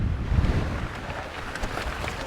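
Wind gusting on a desert mountain bike trail in Palm Canyon, a steady rumbling buffet against the microphone with no talk.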